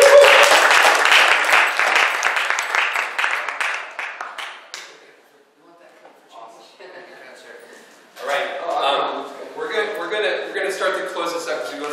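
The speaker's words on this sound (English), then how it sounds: "Can we give Scotty a round of applause" Audience applause fills a youth mental health forum theater performance, loud and dense for about four seconds before fading out. Quieter talk follows, then louder talk.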